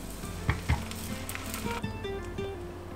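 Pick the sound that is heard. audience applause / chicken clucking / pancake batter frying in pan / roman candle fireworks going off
pancake batter frying in pan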